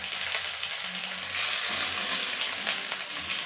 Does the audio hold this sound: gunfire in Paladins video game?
no